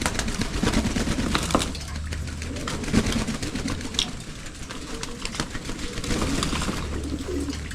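Breeder pigeons settling into a new loft coo and flutter, with a steady murmur of several birds and occasional scuffs and knocks near and far.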